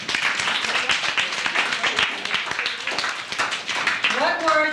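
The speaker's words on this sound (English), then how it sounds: "Round of applause." Fourth-grade pupils in a classroom clap together in a brisk, loud round of applause that fills the room, and a voice begins speaking near the end.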